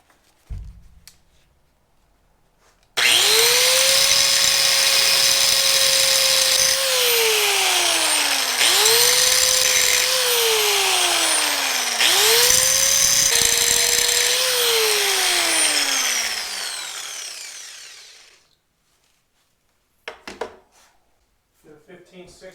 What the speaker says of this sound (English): I'm going to try to grind that down